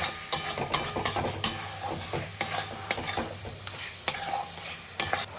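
Potatoes sautéed in a pan for a banana flower kofta curry, with soft sizzling under repeated sharp clacks of a spoon stirring and scraping, fairly quiet and close, with no voices.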